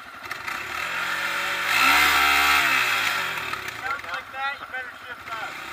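An ATV engine revs up loudly, climbing in pitch and then dropping back, close by, with a voice talking near the end.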